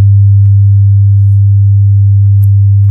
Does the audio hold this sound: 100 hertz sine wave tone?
yes